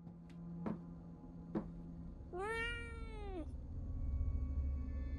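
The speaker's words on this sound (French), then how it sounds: "c'était le chat qui a fait du bruit" A cat in an attic lets out a single clear, drawn-out meow mid-clip after a few faint knocks, against a low steady room hum.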